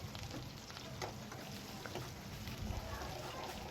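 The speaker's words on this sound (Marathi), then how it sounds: "हिरव्या मिरच्या टाकल्यानंतर आता यांना छान असं शिजू द्यायचं आहे" Green chillies, curry leaves, red chillies and garlic cook in hot oil for a Maharashtrian cucumber dish, making a faint, even crackle and sizzle that holds throughout.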